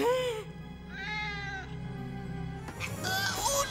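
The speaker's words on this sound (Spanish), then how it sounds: "¡Ah, ¡un gato!" A cartoon cat gives a few drawn-out, rising and falling meows, close and clear, followed by a burst of squealing cartoon noise.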